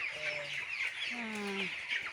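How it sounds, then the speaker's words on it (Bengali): Broiler chickens in a home poultry farm housing about a thousand birds, clucking and calling continuously at close range, with overlapping squawks and drawn-out tonal calls and no one talking. "বাড়িতে মুরগি পালতিছে"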